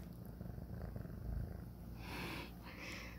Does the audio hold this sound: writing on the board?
no